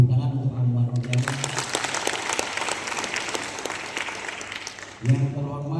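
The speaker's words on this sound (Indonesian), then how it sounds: "Tepuk tangan untuk Namuman Nurjaman." An audience at a graduation ceremony breaks into loud, sustained clapping that lasts about four seconds, framed by a speaker's amplified voice over a public address system just before and after.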